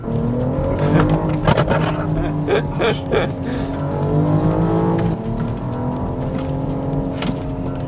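A BMW X5 50e plug-in hybrid SUV accelerates in sport drive mode, its engine climbing in pitch through gears with steady road and wind noise, heard from inside the cabin with no talking.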